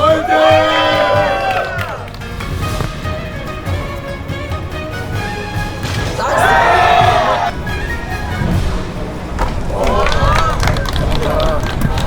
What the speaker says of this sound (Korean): 박수가 많이 약해졌습니다.